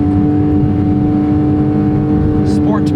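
Porsche 911 Carrera T (991.2) engine held at high revs in sport mode, a strained, steady tonal howl with a faint squeak near the end, loud and close.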